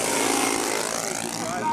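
A model airplane's propeller engine buzzes steadily as the plane comes down to land at a control-line flying event, with a broad continuous drone.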